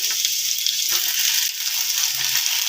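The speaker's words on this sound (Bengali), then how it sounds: "আলুটাকে ভেজে নিয়ে এবার আমি কেটে রাখা বাদবাকি সবজিগুলো দিয়ে দিচ্ছি" Potatoes frying in a pan as chopped vegetables are dropped in, a steady hiss of sizzling oil running throughout at a moderate level with no talking, for a Bengali mourala fish chorchori.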